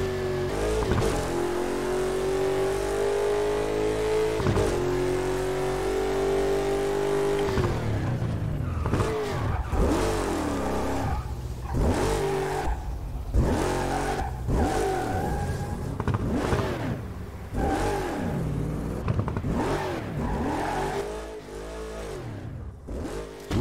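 Nakamura SI7 car engine in the video game Burnout Paradise, first a steady high drone, then repeated revving surges and gear shifts as it accelerates, loud and close with no talking.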